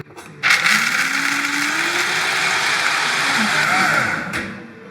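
A blender grinds activated, dehydrated almonds into almond flour, starting after a brief pause and running as a steady, loud whirring drone with shifting pitch for several seconds before winding down at the end.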